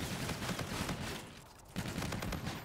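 An M4 rifle firing in a Call of Duty game, continuous rapid automatic bursts with a brief lull near the middle before shooting picks up again, moderately loud.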